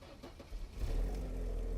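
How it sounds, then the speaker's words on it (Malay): A Mercedes CLK230 in tiptop condition starting up, with a brief cranking whir followed by the engine catching into a low, steady idle rumble. "Jom kita start sikit tuan-tuan kereta ni."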